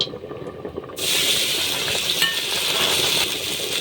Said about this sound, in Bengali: তেলটা গরম হয়ে গেছে, এবার আমরা সেই কাটা শাকগুলো দিয়ে দেবো